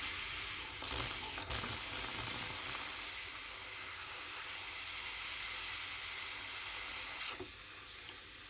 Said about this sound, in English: Let's test the steam a couple more times.